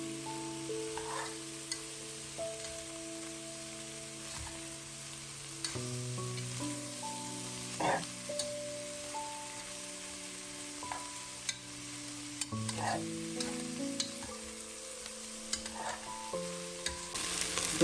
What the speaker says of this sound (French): Donc là nous allons retourner notre poisson salé, notre poisson fumé avec les oignons. Nous allons bien les mélanger.